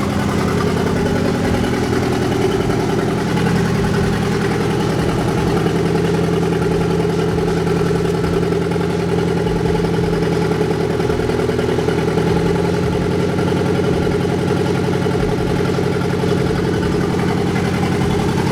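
A turbocharged Nissan 240SX with a KA engine idles roughly nearby, its loud, uneven chugging pulse pointing to cylinder 3 misfiring, steady throughout with no talking.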